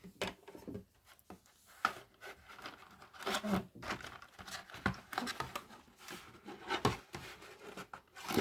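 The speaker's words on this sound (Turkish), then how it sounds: "ben kopmasın diye makasla kesiyorum" Quiet, irregular snipping and rustling, a series of short crisp cuts mixed with handling noise, close by with no talking.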